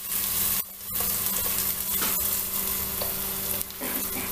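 Food sizzling steadily in a hot pan with garlic as it is stirred, a few scraping strokes of the utensil breaking through the continuous frying hiss.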